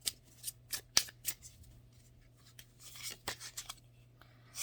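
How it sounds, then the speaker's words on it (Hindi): Tarot cards drawn and handled from a deck, a series of soft crisp flicks and rustles with one sharper snap, close and quiet against near silence. "एक कार्ड और निकालती हूँ।"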